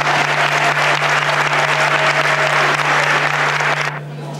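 Sustained audience applause at a community colloquium, dense close clapping from a full room over a steady low electrical hum, cutting off abruptly near the end.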